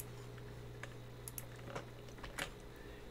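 Zip code keys tapped on a computer keyboard, a run of light irregular clicks with a few sharper strokes, faint and close over a steady low hum, no talk.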